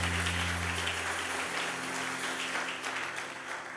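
A church congregation applauds during a sermon, producing a steady, continuous wash of clapping of moderate loudness that eases slightly toward the end, with a low electrical hum beneath.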